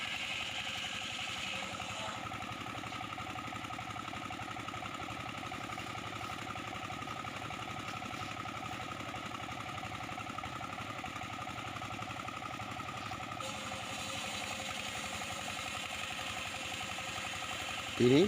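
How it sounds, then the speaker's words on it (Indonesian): A 24 PK dompeng diesel engine running steadily while powering a homemade portable sawmill, a constant mid-pitched drone, with a voice talking over it. "Sementara mesin penggerak digunakan mesin dompeng"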